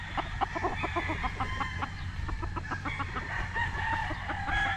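Gamefowl roosters at a game farm crowing and clucking steadily, several birds close by with overlapping calls and pecking clucks throughout, no talk.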